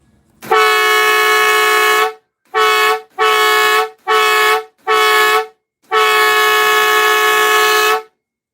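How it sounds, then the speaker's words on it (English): A loud, harmonic train-style air horn blasts in a long note, then four short toots, then another long sustained blast. "Train horn demo coming right now."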